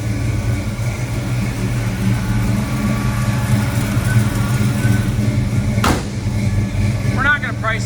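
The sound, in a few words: 1954 Chevrolet 210 small block 350 engine running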